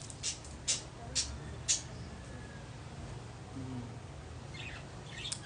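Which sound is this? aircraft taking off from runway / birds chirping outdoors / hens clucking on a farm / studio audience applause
birds chirping outdoors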